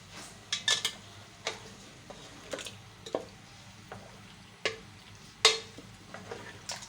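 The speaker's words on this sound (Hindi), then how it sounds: "ये देखिए सारा तेल में मैं चला रही हूँ। मैं इसको चला के और ये टमाटर जो मैंने 2 लिए थे ये मैं डाल रही हूँ।" Tomatoes are stirred into hot oil in a pan for balti chicken, a spoon scraping and knocking against the metal in a series of distinct strokes over a low sizzle, with no voices.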